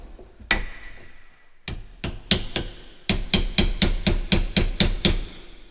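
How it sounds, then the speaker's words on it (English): Sharp metallic hammer blows drive a cold chisel into metal to cut fins on an LED light power supply part: a few spaced strikes, then a rapid, even run of about nine loud, close hits. "Other thing I'm going to do is cut these a little bit with the cold chisel to make fins on them."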